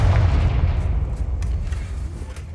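A Confringo blasting spell explodes in Hogwarts Legacy, a loud, deep rumbling boom that fills the clip and slowly trails off, with a few faint crackles above it.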